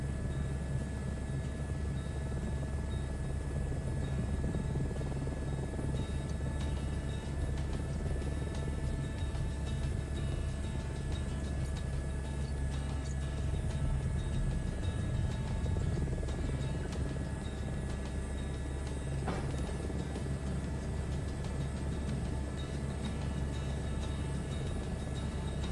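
Crop-duster aircraft in Microsoft Flight Simulator 2024, flying low over a rice field with a constant droning engine hum and a deep rumble, steady and unchanging throughout with no talking.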